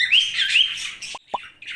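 Budgies and cockatiels chirp and squawk close by in an aviary nest area, a busy run of shrill calls followed by a few sharp taps and more chirps.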